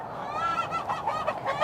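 Disturbed chickens in a backyard flock squawk and honk in a steady run of raspy, nasal calls, moderately close and without talk.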